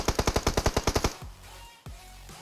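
Minigun fire in a video game fires a rapid burst of about a dozen loud, evenly spaced shots, then stops, leaving a brief rumble and a single sharp thud near the end.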